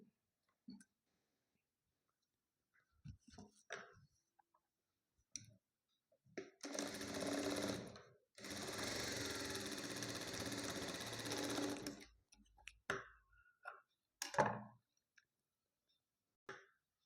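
Domestic sewing machine stitching tucks on a blouse, two sustained bursts of rapid needle chatter separated by a brief pause, with scattered clicks and handling noises around them in a quiet room.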